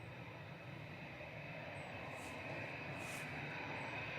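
An EasyJet airliner taxiing at Manchester Airport makes a steady, faint, distant engine whine and rumble that holds evenly and swells slightly toward the end, with no voices.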